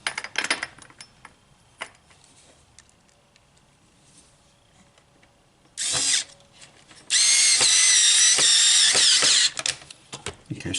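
Power drill driving a screw into an adapted battery toy, an otter, heard as a short whir and then a longer steady buzzing run, loud and close, with scattered clicks and handling noises around it.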